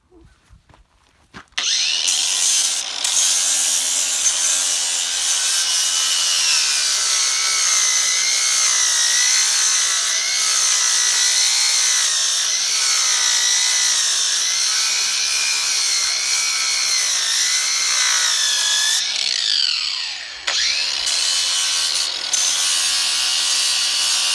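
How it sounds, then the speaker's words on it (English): Small flap wheel sanding wood, a loud, steady high whirring rasp that starts abruptly after a brief pause and runs continuously with slight pitch wavers, dipping once near the end before resuming. "Yeah, well, I like these little flapper wheels."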